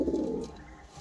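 A male Andhra Lalful pigeon gives a low, soft coo, close by, strongest in the first half and fading toward the end, with no talking.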